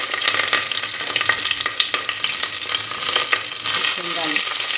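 Curry leaves frying in hot ghee and oil with mustard seeds and curry masala while tempering for tomato rice, a steady close sizzle and crackle with stirring scrapes, rising to a louder hiss near the end.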